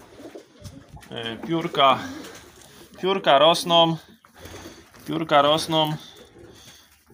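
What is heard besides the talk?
pigeons cooing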